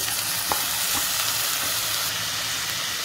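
Beetroot sautés with softened onions and green chillies in a pan, giving a dense, continuous frying hiss. A few soft knocks come from stirring.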